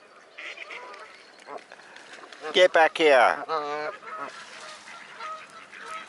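Geese honk loudly at close range, a burst of several harsh calls clustered together, with someone talking over and around them.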